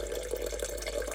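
Warm water runs from a kitchen tap in a steady, moderately faint stream with a low hum beneath and no talking.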